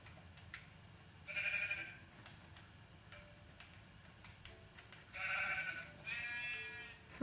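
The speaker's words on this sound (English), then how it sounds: "Why am I chasing after a sheep?" Sheep in the game Minecraft bleating twice, short wavering cries separated by a few seconds of quiet, over faint ticking background sounds with no talking.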